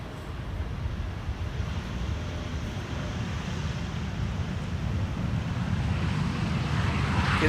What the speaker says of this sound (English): KLM 737-700 arriving from Bergen.